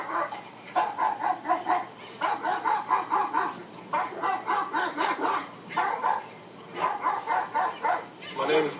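A nine-month-old Fila Brasileiro dog barks in repeated bursts during protection bite work, with clusters of loud, close barks and short pauses between them.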